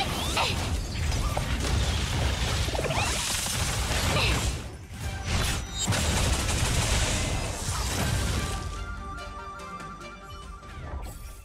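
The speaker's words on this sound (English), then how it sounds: "There you go, Numbi attacks again." Numbi's attack in the turn-based game Honkai: Star Rail: a dense, loud barrage of rapid mechanical clatter and gunfire-like bursts, nearly continuous, that tapers into lighter metallic ticking and ringing tones.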